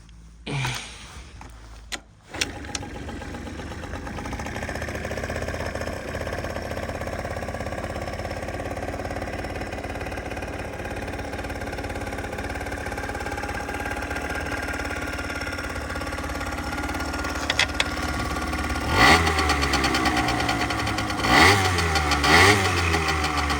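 A small two-stroke engine on a Suzuki ZZ Inch Up Sport scooter runs steadily up close, a buzzy idle that rises in a few sharp revs near the end.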